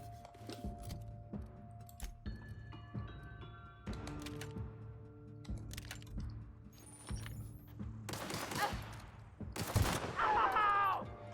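Sharp, scattered gunshots and clanks from a hunting rifle in the video game The Outer Worlds, fairly quiet, with game tones and a voice near the end.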